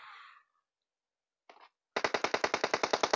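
A minigun fires in zombie mode of PUBG Mobile: after a short sound and a brief pause, a loud, fast run of about a dozen evenly spaced shots rattles at close range with no talk.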